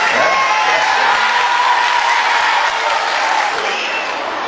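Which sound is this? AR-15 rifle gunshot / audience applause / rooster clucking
audience applause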